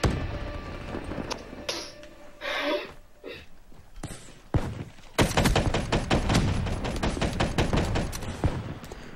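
Scattered single shots and thuds give way to a sustained burst of rapid automatic gunfire in Call of Duty Black Ops 3 multiplayer on Xbox 360, loud and close, continuing to the end.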